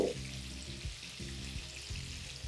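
Chicken pieces shallow frying in oil over a medium-high gas flame give off a steady, close sizzle that continues without a break, along with a faint bubbling crackle and a few soft low thumps.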